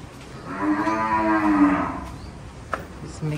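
Cows at the ISKCON goshala in Vrindavan, India, during feeding time: one long, drawn-out moo sounds close by and fairly loud for about a second and a half, then fades into quieter farmyard background noise.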